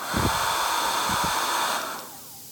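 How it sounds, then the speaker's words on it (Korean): A hair dryer, used to heat an iPhone X during screen replacement, blows with a steady whirring roar, close and loud, then switches off and winds down near the end. "자 드라이기입니다."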